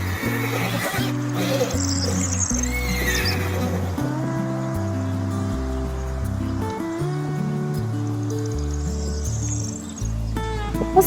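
A horse neighs and whinnies loudly in repeated calls over a backdrop of chirping crickets, the cries rising and falling across the whole stretch with a brief pause near the end.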